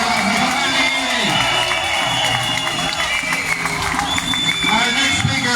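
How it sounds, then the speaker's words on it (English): An outdoor protest crowd in Galway claps and cheers for a speaker, a loud mix of applause, shouts and whoops with voices talking through it, rolling on steadily throughout. "Please give Aaron a big round of applause there, lads."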